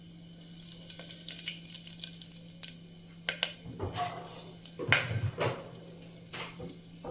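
Spices such as pepper and asafoetida drop into hot oil for tempering while cooking pongal, giving a soft continuous sizzle with crackling pops and a few scraping stirs, close and fairly quiet.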